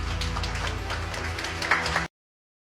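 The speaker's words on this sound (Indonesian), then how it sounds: "Boleh kita berikan tepuk tangan sekali lagi?" An audience at an Indonesian talk on faith and corruption gives another round of applause. The dense, steady clapping from many hands runs for about two seconds and then cuts off abruptly into silence.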